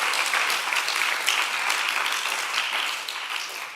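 A church audience at a Korean mission gathering breaks into sustained applause, a dense, steady wash of many hands clapping at close range that holds loud and even before tapering slightly at the end.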